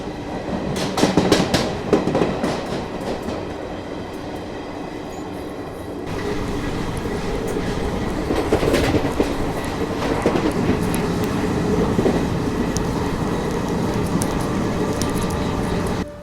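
The Garib Rath express train, running between Chennai and Delhi past Ramagundam station, rolls along the tracks with loud, continuous rumbling, rhythmic clickety-clack of wheels over rail joints and occasional metallic squeals, heard steadily up close with no talking.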